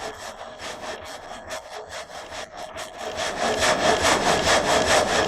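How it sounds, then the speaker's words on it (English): A water-powered sawmill's saw gate rises and falls through wood, giving a rhythmic rasping of repeated strokes that grows louder and denser toward the end, with no talking. "This transformation causes the saw gate to rise and fall in a steady rhythm."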